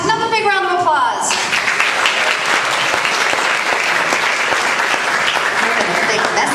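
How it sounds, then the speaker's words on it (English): Steady, loud applause from an audience at a high school awards ceremony fills the room after a brief spoken tail at the start, dense clapping continuing evenly to the end. "Another big round of applause."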